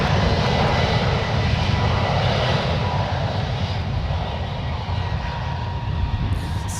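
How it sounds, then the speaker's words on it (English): A three-year-old Alaska Airlines Airbus A321neo jet departs San Francisco airport with a steady, loud, broad engine roar that holds throughout, and a voice briefly speaks near the end. "This departure is Alaska Airlines Flight 20 departing to New York. It's a 3-year-old Airbus A321neo."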